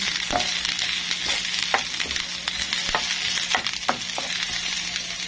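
Fresh ginger dropped into golden-brown garlic frying in oil for escabeche sizzles steadily and loudly, broken by scattered sharp clinks and scrapes of stirring in the pan.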